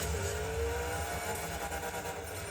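Monster truck engine roaring steadily while drifting around a figure 8 race in the video game Monster Jam Showdown, a loud continuous motor drone with slight revving variation.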